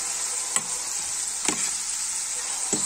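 Chicken frying in hot oil hisses in a constant close sizzle, broken by three sharp scraping strokes of a utensil stirring the pieces at roughly even intervals.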